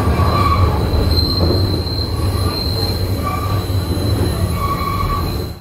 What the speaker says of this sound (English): the horrible squealing you do hear on some conventional metro systems